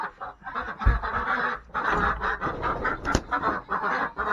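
Several ducks quack and honk in close, overlapping bursts, loud and continuous with brief pauses.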